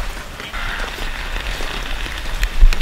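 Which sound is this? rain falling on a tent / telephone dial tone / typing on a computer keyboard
rain falling on a tent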